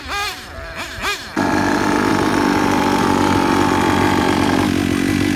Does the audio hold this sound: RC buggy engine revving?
yes